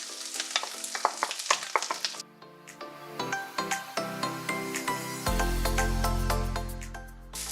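Grated coconut and raisins sautéing in a hot pan for rava laddu, a spoon scraping and tapping in a repeated rhythm over a soft sizzle that swells into a louder steady fry near the end.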